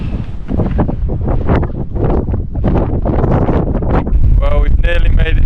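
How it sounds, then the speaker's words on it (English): Strong gusty wind batters the microphone on the exposed Crib Goch mountain ridge, a loud roaring buffet throughout, with a voice talking over it near the end. "Obviously it's quite windy."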